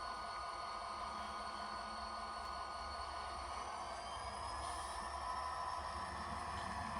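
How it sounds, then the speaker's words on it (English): Model railroad locomotive spooling up as it starts to pull away, a steady humming whine with rising tonal drone, moderately faint and continuous throughout without talking. "Here's a good opportunity to hear the locomotive spool up as it's starting"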